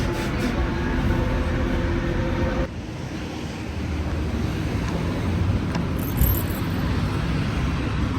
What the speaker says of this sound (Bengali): মেট্রোতে উঠেছি মেট্রো এখন বাইরে এই